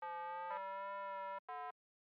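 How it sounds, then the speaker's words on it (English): A buzzy high-pass square wave synth melody playing a held note, a short step to another pitch, then a brief separate note after a tiny gap, with no other sounds. "There's this basic high pass square wave sound that comes in at the end of every 4 bars"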